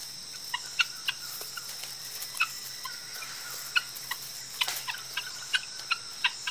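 A flock of wild guinea fowl in an African forest gives sharp, repeated clucks and calls at moderate distance, scattered irregularly over a faint, steady insect hum.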